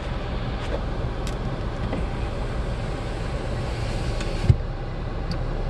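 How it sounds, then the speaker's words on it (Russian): Steady road traffic drones behind people standing near a beach in the United States, a constant low rumble of passing cars with a single sharp knock near the end, no talking. "За нами трафик."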